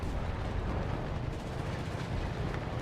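Artillery barrages in the World War II shooter Enlisted, a dense continuous roar of overlapping booms and rumbling impacts at steady loudness throughout.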